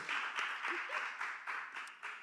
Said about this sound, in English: make some round of applause for 7 years